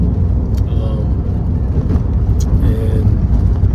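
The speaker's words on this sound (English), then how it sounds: "Taxi cab ride into this development" Taxi cab interior on a ride into a development, with a steady low engine and road rumble filling the cabin throughout, fairly loud and continuous, with faint talk underneath.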